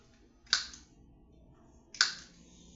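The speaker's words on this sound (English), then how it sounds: "snip my edges off" Two crisp, isolated scissor snips, about a second and a half apart, trim the edges off a handmade printed cat card, close and clear against a quiet room.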